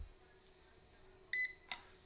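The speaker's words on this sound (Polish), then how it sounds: "Zapipczało." A Chinese laser pointer gives a pair of short, faint electronic beeps followed by a single sharper beep, set against quiet background hum with no one talking.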